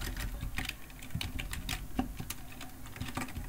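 Rapid clatter of a computer keyboard as commands are typed into a terminal during a capture-the-flag hacking exercise, steady irregular keystrokes close up with no voices.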